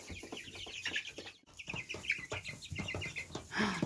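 Hens at a backyard coop cluck continuously and close by, a busy overlapping chorus with sharper calls rising here and there, with no one speaking.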